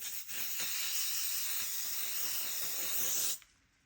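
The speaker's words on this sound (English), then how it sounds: "I'm going to go in with some of the L'Oreal Infallible Setting Spray too." A single long hissing burst of L'Oreal Infallible Setting Spray from a nearby aerosol bottle lasts about three seconds, then stops abruptly.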